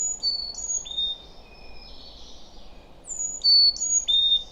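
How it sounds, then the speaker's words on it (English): Birdsong on the Appalachian Trail: several thin, high whistled calls and chirps repeat over a soft outdoor hiss, fairly faint and at a distance. "And each morning, I was treated to a symphony of birdsong."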